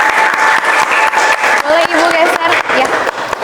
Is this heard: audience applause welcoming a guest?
yes